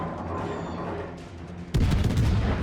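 Heavy naval gun salvo from the Hindenburg cruiser in World of Warships, a sudden loud booming blast with rumbling tail after a stretch of low battle ambience.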